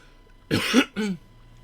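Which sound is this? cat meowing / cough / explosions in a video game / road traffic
cough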